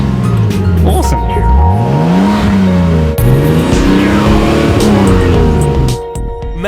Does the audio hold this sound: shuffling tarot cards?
no